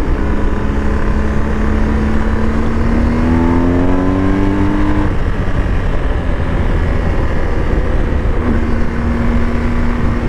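A BMW R 1250 GS Adventure motorcycle in dynamic pro mode rides a dry paved road, its engine droning loudly and steadily with rising pitch as it accelerates, heavy wind noise throughout.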